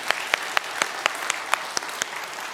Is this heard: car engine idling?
no